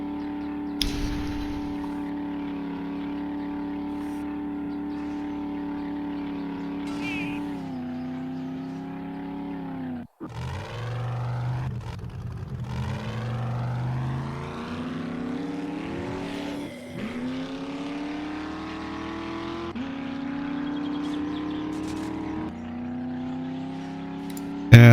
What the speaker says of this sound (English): the motor sound does not match this truck